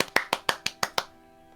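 Hand clapping close to a microphone: seven sharp, evenly spaced claps in about one second, then stopping abruptly into quiet room tone.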